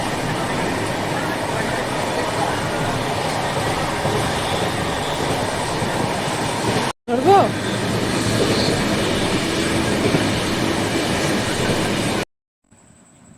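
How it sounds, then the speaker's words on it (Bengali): A Duronto superfast express pulls out of Howrah station bound for Bangalore. A steady, loud rumble of wheels and carriages carries on with a rattle and faint squeals, broken briefly by a cut, and a voice speaks under it. "এই যে ট্রেনটা হাওড়া থেকে ছেড়ে দিল ব্যাঙ্গালোর যাওয়ার উদ্দেশ্যে"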